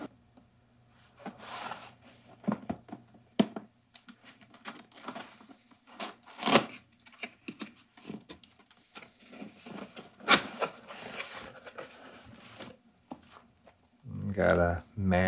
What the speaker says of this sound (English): let me get this thing out of the box and let's see and hear the ART dual limiter